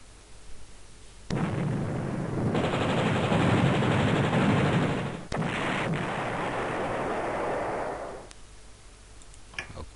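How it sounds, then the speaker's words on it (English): Artillery shelling a city in the Panzer General strategy game: a sustained roaring barrage of rapid bursts and explosions rolls on for several seconds, loud and steady, then cuts off abruptly. "And we'll shell this city."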